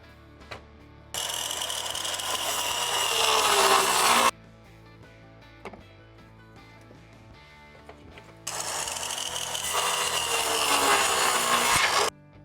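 A power tool saws through a small chunk of cherry wood in two long, loud, steady bursts with a quiet gap between them, close up and free of talk.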